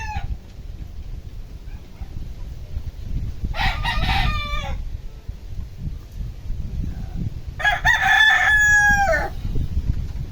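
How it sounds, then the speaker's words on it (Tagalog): Fighting cocks kept at a home yard in Laguna crow loudly twice, each long call standing out over a steady low rumble of background noise, with softer clucking and a fainter crow at the very start. "quality ito mga manok dito sa Laguna."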